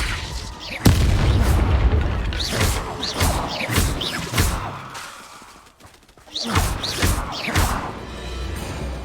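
Repeated Bombarda spell blasts in the video game Hogwarts Legacy, a series of loud, booming explosive impacts with rumbling low tails, several hits in quick succession with a short lull partway through.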